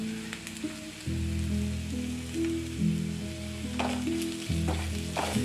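Carrot sautéed with salt in a pan, giving a continuous close sizzle with a few stirring scrapes, while a steady low tonal hum drones underneath.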